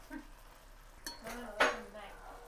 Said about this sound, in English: I'm just making sure I'm stirring them around